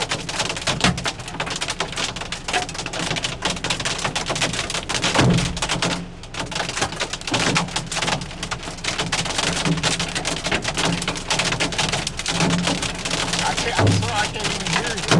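Large hailstones, about 2 to 2.5 inches across, egg-sized, pound a car during a storm chase, a dense continuous barrage of loud hard thuds and dings on the body and roof, with occasional heavier impacts and a voice faintly under the din.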